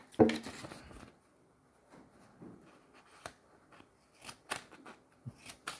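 Several sharp snips from multi-tool scissors cut through paper, spaced irregularly with quiet pauses between, close and crisp.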